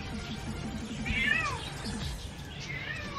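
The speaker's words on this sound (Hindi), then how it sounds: "एक बिल्ली नहीं चुप करनी कसमें" A cat meowing repeatedly indoors, a couple of drawn-out, fairly close cries rising and falling, with faint background noise and no clear talk.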